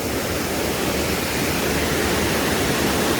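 A waterfall on a river in Tennessee gives a loud, steady, broad rushing roar up close, unbroken throughout with no voices.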